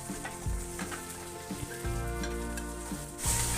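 Chopped onions and slit green chillies sizzle steadily in hot oil for an egg curry, a close, continuous frying crackle with occasional stirring scrapes and no talking.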